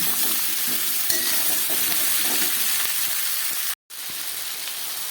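Vegetables fry in a pan while cooking arhar dal, a steady loud sizzle with soft stirring scrapes, broken by a brief dropout near the end before the hiss resumes.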